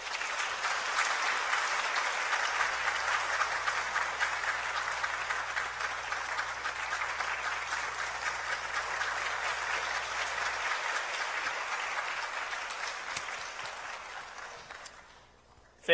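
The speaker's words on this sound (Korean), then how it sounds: "두 분 올라오실 때 박수로 맞아주시기 바랍니다" A church congregation applauds in warm, sustained clapping that fills the hall for about fourteen seconds, a low hum running underneath for part of it, before the applause thins out and stops.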